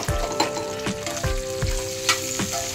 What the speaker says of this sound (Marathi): आपल्याला तेलामध्ये लसूण टाकायची, म्हणजे आलं. त्याला चांगलं परतवून घ्यायचं.